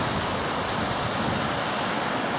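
Sea waves at Elliot Beach in Arbroath just after high tide, a loud, continuous broadband surf wash with some wind buffeting on the microphone and no voices.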